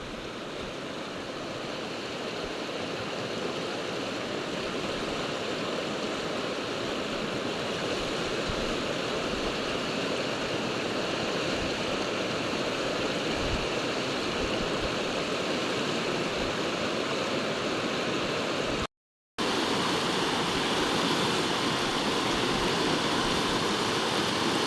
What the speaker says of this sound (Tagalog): Naglaki-laki po ng konti yung Agos.